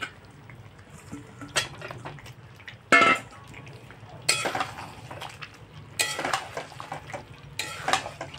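Chicken curry with fried potatoes being stirred in a pot, with a spoon scraping and clattering in repeated bursts over a low simmering sizzle, close and moderately loud.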